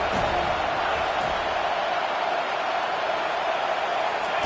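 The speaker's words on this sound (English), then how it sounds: "Decibels rising as the crowd gets behind this defense on 3rd down" Dense, steady roar of a large stadium crowd at a Miami at FSU college football game on third down, loud and sustained throughout with no pause.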